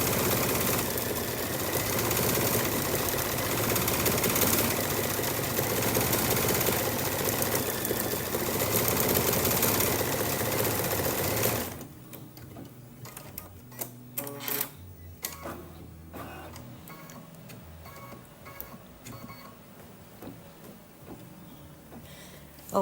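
An embroidery machine stitching a floral design on a Kimberbell mug rug hums loudly and steadily for about twelve seconds, then stops, leaving quieter intermittent clicks and mechanical taps.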